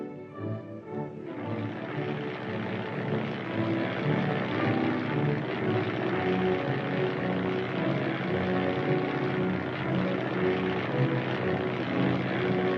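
A reconnaissance aircraft during a US Army mobile defense exercise drones with a steady propeller engine hum, fairly faint and distant, continuous throughout with no talk over it.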